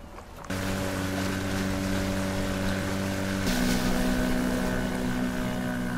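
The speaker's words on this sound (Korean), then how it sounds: "보트를 끌고 잔잔한 파도를 가르며" A motorboat cruises across calm sea waves, its engine starting with a steady droning hum that shifts pitch midway, backed by continuous water rush and wind.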